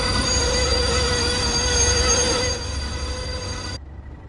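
A freight train's wheels screech loudly against the rails in a sustained metallic squeal, with steady tonal whining over rumbling wagons until it cuts off abruptly near the end, in Train Sim World 2.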